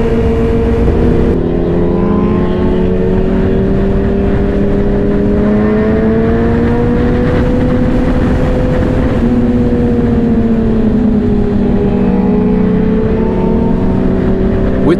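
A motorcycle rides along steadily on the way to a taco outing, its engine drone loud and continuous with gentle pitch rises and falls as the throttle shifts, plus wind rush throughout.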